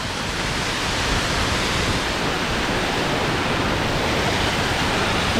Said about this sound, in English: It has just rained so hard for the last hour, and it is an absolute torrent here.